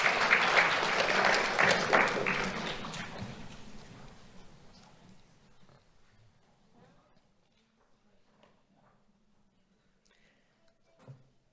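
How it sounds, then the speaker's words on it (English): Applause for an award winner at a monthly awards ceremony: a loud crowd clapping that gradually fades away over several seconds into near quiet, followed by faint room noise and a brief murmur of voices. "Let's have a round of applause for Jaziel Madrano."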